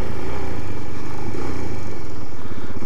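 Suzuki DRZ400 dirt bike engine roaring loud and steady as the clutch is popped for a wheelie attempt, a close, continuous, saturated engine drone with a throbbing low rumble and no voices.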